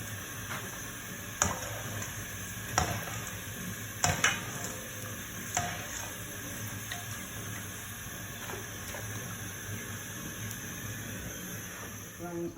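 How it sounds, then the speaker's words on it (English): Peanuts frying in oil in a pan while being stirred, a steady hissing sizzle with periodic clinks and scrapes of the stirring utensil against the pan, moderately close, with faint talk in the background. "Frying our peanuts."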